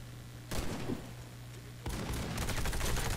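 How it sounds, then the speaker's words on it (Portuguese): A small submachine gun fires rapid bursts in the PC shooter Warface during a co-op match, two dense volleys of close, loud gunfire starting abruptly, the second running continuously to the end. "Eu gosto dessa metralhadorinha."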